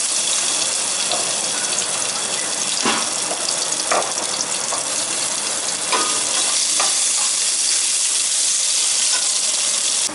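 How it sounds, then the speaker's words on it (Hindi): Garlic and ginger paste sizzling and frying in a pan for a mutton seekh kabab gravy, a loud continuous hiss broken by occasional stirring scrapes. "इसको मैंने अब इसमें देखें लहसुन अदरक डाल के भून लिया"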